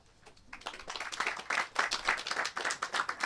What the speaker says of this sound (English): Yeah, that deserves a clap.